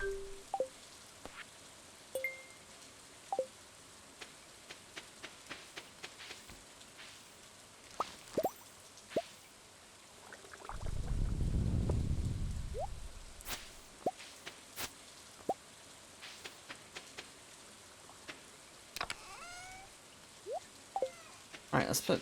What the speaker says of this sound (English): It's raining today.